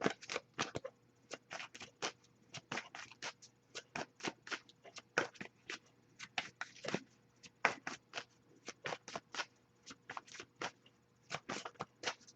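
A deck of reading cards is shuffled close up in a quiet room, with a steady run of crisp riffles and snaps repeating throughout.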